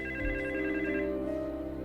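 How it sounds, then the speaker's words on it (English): A telephone rings with a steady electronic bell tone, loud and close, holding for nearly two seconds with no talking over it. "And then the phone rang."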